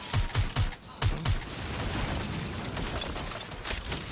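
Gunfire in the video game Watch Dogs Legion, fired through a wall: a few sharp, rapid shots up front, then a sustained, noisy rumble of continued fire and debris with no talking.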